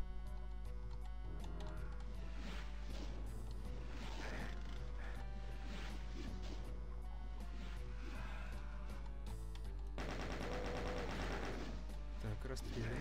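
Doom II gunfire: a quick series of sharp shots and bursts cracks over a constant, loud game music backdrop.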